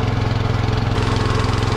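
A rusty air compressor runs steadily close by, its motor giving a loud, even, pulsing drone with no other sound.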